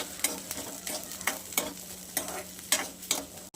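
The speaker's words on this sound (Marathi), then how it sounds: "वाटाणा आहे ना आपण बारीक गॅसवर मस्त परतू देणार आहे" Peas fry gently in oil over low heat, a soft continuous sizzle broken by rhythmic stirring scrapes about every half second.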